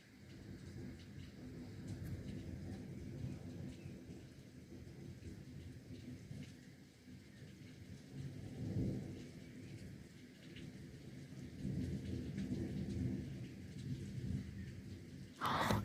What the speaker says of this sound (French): Je veux juste montrer la bonne grosse pluie qu'il y a sur la route.